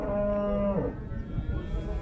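A cow moos once, a long steady low call lasting under a second, amid the crowded noise of a livestock market in Zharkent where cattle are being sold, followed by continuous background chatter and bustle.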